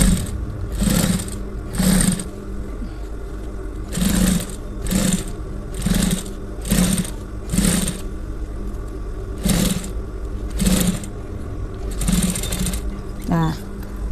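Sewing machine stitching a shirt collar, running in about ten short regular bursts separated by brief pauses, close and fairly loud, with a quieter mechanical rattle near the end.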